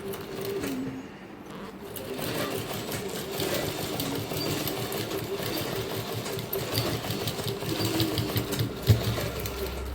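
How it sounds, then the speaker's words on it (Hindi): Sewing machine stitching a sleeve, running in a steady continuous whir with a rapid mechanical needle rhythm throughout, fairly close and moderately loud, with a small knock near the end. "बाजू की जो लेंथ है उसके हिसाब से इस पर सिलाई करेंगे"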